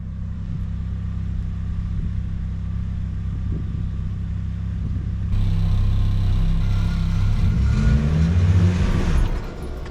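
A Nissan S14's engine idles with a low, even drone, then revs up hard during skids, growing louder and rising in pitch with surging, wavering tones before dropping back.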